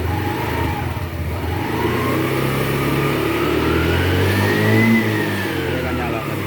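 A TVS Callisto scooter engine, 110 or 125 cc, revs up from a steady drone, its pitch rising and then easing, loud and close, with faint talk in the background.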